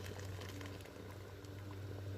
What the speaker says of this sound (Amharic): አሁን ውሃችን ፈልቷል።